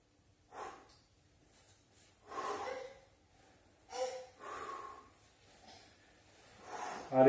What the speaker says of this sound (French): Souffle, on respire.